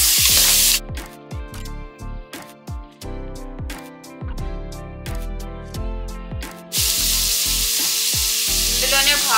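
Half a kilo of chicken sizzles and spits on a high flame as it is stirred, loud continuous frying with repeated scraping stirs, bursts of hiss at the start and end.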